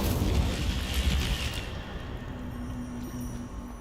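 Incendio fire spell cast in the video game Hogwarts Legacy, a loud roaring burst of flame that crackles for about a second and a half, then fades into a quieter hum.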